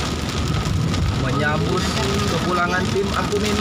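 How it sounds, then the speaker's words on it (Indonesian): Heavy rain pours steadily over Jakarta as seen from a flyover, a dense constant hiss with faint traffic beneath, while a reporter talks over it. "disambut hujan yang cukup deras"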